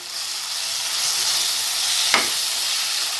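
Paneer biryani masala with chilli powder sautés in a pan, a steady close sizzle and hiss of frying, with one brief scrape of stirring partway through.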